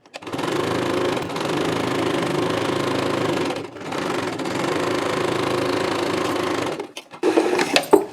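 A sewing machine stitches slowly through a thick designer blouse sleeve, running in a steady continuous whir with a brief pause midway, then stopping before a few light handling clicks at the end.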